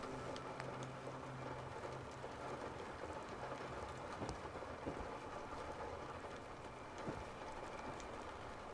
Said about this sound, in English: Don't want to be sleeping out in the rain or nothing.